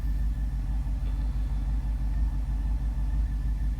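A high-mileage 2006 Jeep SRT8 engine running with a cylinder misfire, giving a heavy, continuous low rumble with a faintly uneven, pulsing beat, steady and close with no voices.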